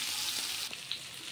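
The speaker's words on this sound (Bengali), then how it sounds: "ভালো করে নেড়ে হালকা ভাজা হয়ে গেলে আমি তুলে নেব" Lentils stir-frying in a pan make a soft, bright sizzle with a few scraping stirs, close and quiet, with no voices.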